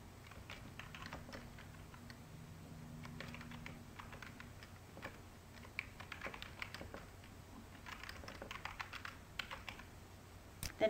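Keystrokes on a computer keyboard while entering an amount into payment software, a steady run of light, close clicks and taps that grows busier toward the end, with no talking.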